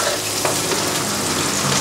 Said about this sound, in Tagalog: igigisa na natin itong bawang at sibuyas.